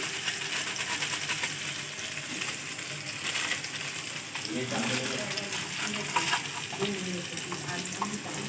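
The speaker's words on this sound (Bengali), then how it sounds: "দেখে নিন যে কাশ্মীরি লাল লঙ্কার মশলাটা আমি ভালো করে কষে নেবো যতক্ষণ না তেল ছাড়ছি" Kashmiri red chilli powder spice paste frying in oil for ghugni, a continuous close crackling sizzle with light stirring clinks and scrapes throughout.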